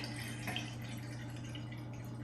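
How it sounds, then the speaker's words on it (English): Red wine poured and sloshed into a glass decanter, a soft continuous liquid trickle with light splashes over a low steady hum, with no talking. "The idea when you pour the wine, really you want to be sloshing it"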